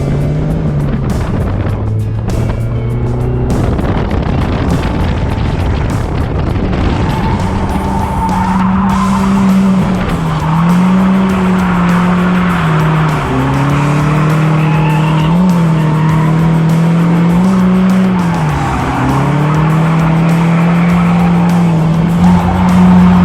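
A drift car on an open drift track, with a loud engine revving up and down through long sweeping tire squeals and skids, heard close from inside the car with no talk.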